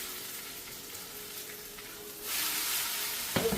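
Marinated pork chop frying in a pan, a steady broadband sizzle that swells louder as the chop is flipped, with a brief clatter near the end; close and continuous, no talking.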